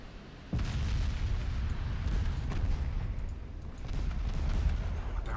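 Naval artillery in the battleship game Ultimate Admiral: Dreadnoughts, a sudden heavy boom followed by a sustained low rumble of continued gunfire and impacts, staying loud throughout.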